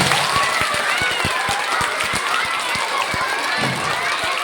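Primary schoolchildren in a classroom counting game clap together in a quick, ragged, repeated rhythm, amid loud crowd noise and chatter.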